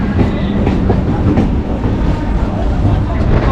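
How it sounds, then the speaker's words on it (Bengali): A train pulls into Howrah station, a loud, steady rumble of rolling wagons filling the whole stretch, recorded up close amid station noise. "আর একটা ট্রেন ঢুকছে দেখতে পাচ্ছো"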